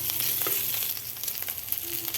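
Pork fried in a pan with onion and garlic until dry gives a steady close sizzle with faint stirring, constant and fairly loud throughout.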